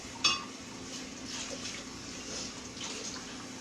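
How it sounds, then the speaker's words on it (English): Water is poured into a cooking pot holding two cups of rice, a steady splashing rush with a metallic clink at the start, heard close and alone for several seconds. "I'm going to throw the rest of the water in."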